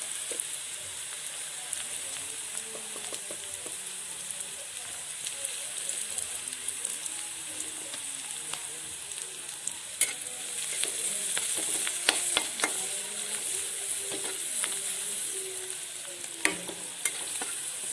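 Potatoes frying in oil in a pan, stirred now and then, give a steady close sizzle with scattered clicks and scrapes of the utensil, no talk.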